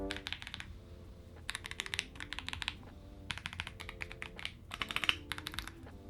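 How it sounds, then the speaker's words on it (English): Bursts of clacky typing on a Bakeneko65 mechanical keyboard, quick key presses in short runs separated by brief pauses, close and fairly quiet. "It's like a totally different sound profile from the keyboard."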